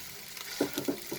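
Mashed potato with onion and chili, stirred in a hot pan, giving a few quick scraping strokes over a light, quiet sizzle, close by.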